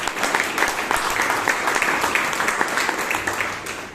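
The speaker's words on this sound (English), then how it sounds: "So please give yourselves a huge round of applause." A roomful of attendees at a Bangalore Toastmasters meeting applaud themselves, with brisk, steady clapping from many hands held at an even level throughout.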